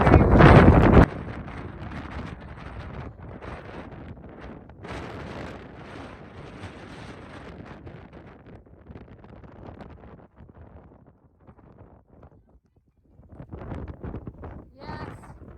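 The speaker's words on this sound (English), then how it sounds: "It's absolutely beautiful, but it is very, very windy." Strong wind buffeting the microphone on a mountain overlook along the Appalachian Trail on a rainy day, loud roaring gusts at first, then a steady rushing hiss that fades and rises again.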